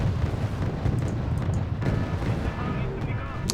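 Missile explosions striking a Luda destroyer at sea in Wargame: Red Dragon, a low rumbling roar with a few duller blasts, moderately loud and somewhat distant.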